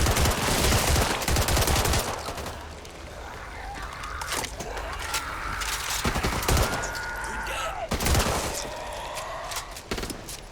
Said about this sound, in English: The man behind me keeps shooting me.